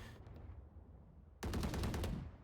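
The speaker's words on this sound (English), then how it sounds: "the first few bullets of the Odin are going to be less accurate than after the first few bullets whenever you're spraying" In Valorant, an Odin machine gun opens into a sustained rapid burst of automatic fire after a quiet lead-in, the shots rattling loudly and evenly to the end.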